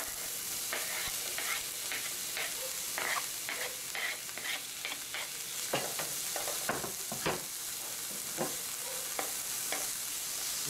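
Garlic and onion fry in a pan with a soft, even sizzle, broken by frequent scraping stir strokes, heard close and fairly quiet with no talking.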